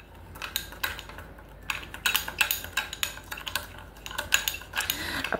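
A spoon stirring a lemon face-pack mixture in a small bowl, with quick, light clinks and scrapes in an uneven rhythm, soft and close, with no voices.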